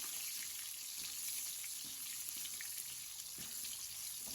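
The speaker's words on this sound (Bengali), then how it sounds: "আমি ওই তেলে কয়েকটা আলু ভেজে নিচ্ছি আলুটা খুব সুন্দর করে ভাজবো" Potatoes frying in oil for a fish biryani, a quiet, steady hiss of sizzling that holds evenly throughout with faint soft ticks, heard alone.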